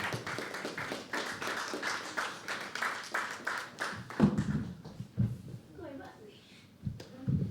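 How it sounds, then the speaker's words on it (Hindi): An audience at a live poetry open mic at The Habitat claps in a dense burst for several seconds, then the clapping thins to scattered taps while a host speaks over it. "एक बार जोरदार तालियां सौरभ के लिए दोस्तों"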